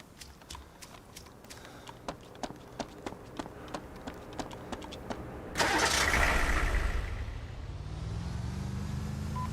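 Rhythmic clicking of a car starter turning over in the video game XMod map, then the engine catches with a loud burst and settles into a steady running drone as the car pulls away.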